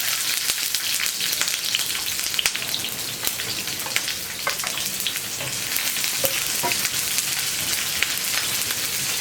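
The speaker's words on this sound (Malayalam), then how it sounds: "കട്ട് ചെയ്ത് വെച്ചിരിക്കുന്ന സവാള ഇട്ട് വെക്കുക" Chopped onions sizzle steadily in a hot pan after mustard seeds have popped, a dense crackling hiss with scattered sharp pops, close and continuous with no talk.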